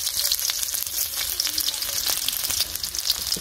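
Green chilies fry in a pan of soybean and mustard oil, giving a steady, close sizzle with fine crackles throughout and no talk over it.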